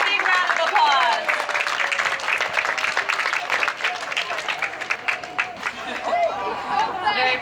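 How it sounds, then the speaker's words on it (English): Applause from a crowd at a marine aquarium show, near and lively, with cheering and chatter mixed in, fading slightly as a presenter's voice comes through. "Give him a big round of applause."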